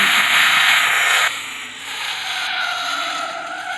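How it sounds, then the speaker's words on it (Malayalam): A car drifting on a road, its tires skidding in a loud, sustained high-pitched squeal that eases partway through and then carries on steadily, with no one talking. "നമുക്ക് ഇവിടെ വണ്ടി വെച്ചിട്ട് നമുക്കൊന്ന് ഡ്രിഫ്റ്റ് ചെയ്ത് നോക്കാം"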